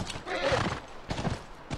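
A horse whinnies in The Last of Us, the neigh rising over a busy game mix with hoof clops and some voice-like sound around it, moderately loud and lasting under two seconds.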